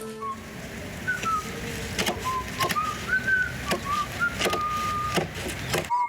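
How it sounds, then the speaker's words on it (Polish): A woman whistles a short, wandering tune at moderate volume while working in a garden, with sharp clicks and taps from work sounds scattered around it. "Pani gwizdże jak prawdziwy majster."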